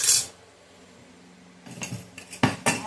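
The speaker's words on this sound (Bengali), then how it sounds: "প্রেশার কুকারের মধ্যে একটা আমি স্ট্যান্ড দিয়ে দেব" A metal stand is set down inside a pressure cooker with a sharp clink, followed after a quiet pause by a cluster of metallic clatters and knocks close by.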